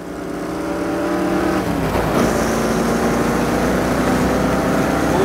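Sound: Ford Shelby Mustang GT500 engine revving while driving

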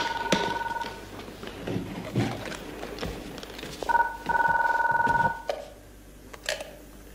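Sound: telephone ringing

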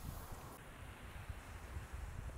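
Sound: wind on the Costa Brava beach

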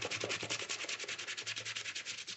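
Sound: scrubbing white Nike Air Force 1 sneaker tongue

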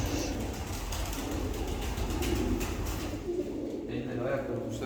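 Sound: fancy pigeons cooing

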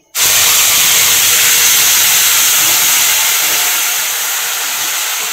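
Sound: garam masala added to frying paste, sizzling

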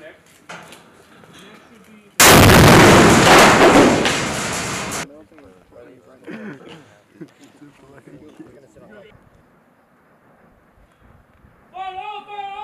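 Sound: gunfire from firing all guns during a midshipmen training exercise

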